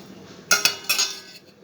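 Chicken being mixed with onion, ginger-garlic paste, masala and salt in a bowl: a few brief, bright clinks and scrapes of a utensil against the dish, close and clear over a quiet background.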